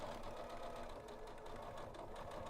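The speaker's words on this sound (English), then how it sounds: "I can continue sewing now to meet the beginning of my seam line." A Janome sewing machine runs steadily, sewing a dress seam with a continuous rapid mechanical whir and needle chatter at close range, with no talk.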